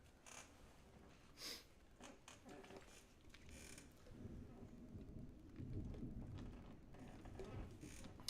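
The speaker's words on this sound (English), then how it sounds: "Oh, now it's coming hard. Do you guys hear the lightning?" Heavy rain pours down outside with a steady wash, and low rumbles of thunder roll in, swelling louder toward the end.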